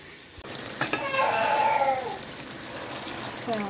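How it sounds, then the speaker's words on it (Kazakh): Eggplant dropped into hot oil in a pan, with a sudden loud sizzle bursting up after a clatter, then fading to a steady frying hiss, with no voices. "Енді мына баклажанымызды қайнап жатқан отқа саламыз"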